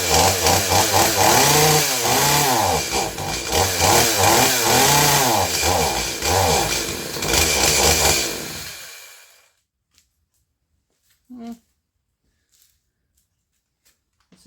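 An Echo CS-310 chainsaw with a freshly adjusted carburetor and choke on fires up and runs loudly, revving up and down for several seconds before cutting out abruptly, followed by near silence with a couple of faint clicks.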